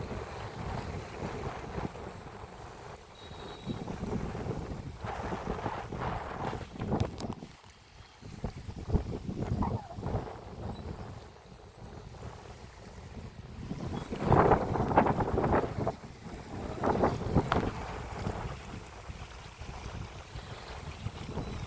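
Steady rush of wind buffeting the microphone over lapping waves on the Godavari River, with louder gusts swelling midway; no voices.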